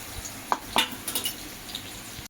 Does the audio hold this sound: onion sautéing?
yes